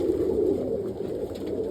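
Roller pigeons coo steadily in a loft housing around 68 breeding pairs, a soft, continuous low murmur of overlapping birds close by with no voices.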